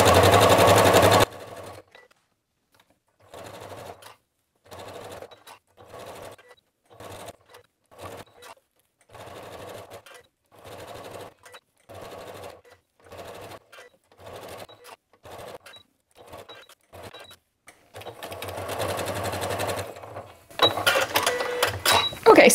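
A sewing machine stitching a scrappy quilt runs in repeated short bursts of rapid mechanical whirring separated by brief pauses, fairly close, with a voice heard at the start and end.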